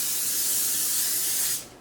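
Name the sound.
spraying a bundt pan with cooking spray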